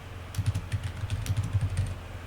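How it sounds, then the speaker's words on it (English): Steady, fairly rapid typing on a computer keyboard, keys clattering in an even run over a low background hum. "So let's just type that name in there."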